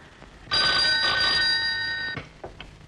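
An old-style telephone bell rings loudly in a single sustained burst in an office setting, ringing steadily for about a second and a half before cutting off, followed by faint clicks.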